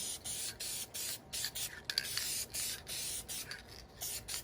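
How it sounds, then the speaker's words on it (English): Black spray paint mists onto a car door panel in short hissing bursts, repeated with brief gaps, close and steady. "You always want to kind of spray dust on it."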